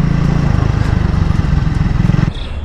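A Triumph Speed 400 motorcycle engine while riding, a loud close thumping single-cylinder beat with rapid even pulses, steady throughout and easing slightly at the end.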